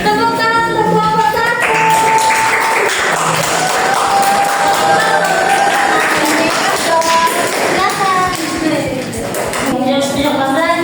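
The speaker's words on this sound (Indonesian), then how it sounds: "Tepuk tangan untuk kelompok" A class claps for a student group in a school lesson, quick scattered taps of applause running through a mix of chatter, voices and music-like tones, fairly loud and close.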